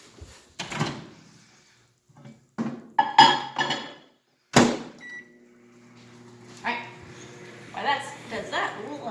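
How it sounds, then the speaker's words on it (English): A microwave oven heating butter, the door clunking and keypad beeps followed by a steady low hum of the running oven, close in a kitchen, with talk over parts of it. "we're gonna microwave it for about 30 seconds"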